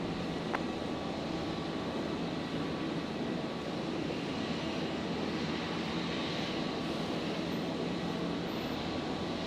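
An airliner touches down at Brisbane Airport, its engines producing a continuous rushing roar that stays level and moderately loud across the whole stretch, with no voices over it.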